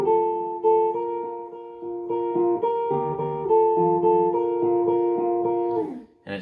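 Lead guitar plays the bridge of a worship song, a sustained melodic line of held and sliding notes over a steady backing that fades out near the end, heard alone without talk.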